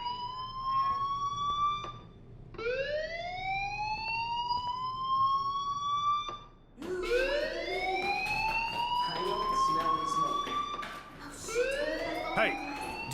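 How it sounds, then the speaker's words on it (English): Fire alarm ringing in the Life Is Strange video game, sounding as repeated loud rising electronic wails, each climbing in pitch and holding, with short gaps between cycles; speech may sit faintly underneath. "do you hear that fire alarm?"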